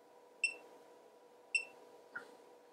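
A Hioki BT3554-01 battery tester testing a VRLA battery gives two short, clear electronic beeps about a second apart over a steady low background hum, followed by a fainter click.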